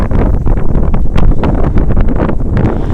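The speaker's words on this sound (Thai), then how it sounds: "ลมแรงนะครับวันนี้นี่ครับ" Heavy gusts on Chom Phon beach batter the microphone in a constant, loud, booming rumble with brief surges, close and unbroken, with no voices.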